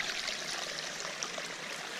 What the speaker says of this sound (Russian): рядом протекает ручеек